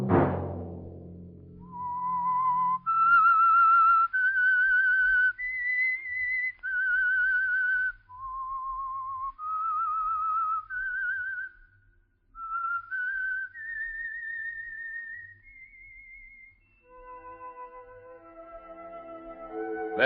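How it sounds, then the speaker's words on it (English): A whistled signal tune for the radio show The Whistler plays alone, a clear melody of sustained notes that rises and falls over about twenty seconds with short pauses between phrases. "Let that whistle be your signal for the Signal Oil program, The Whistler."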